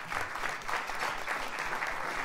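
Audience at an awards dinner claps steadily as a dense patter of many hands, even and sustained through a couple of seconds, moderately distant and without voices.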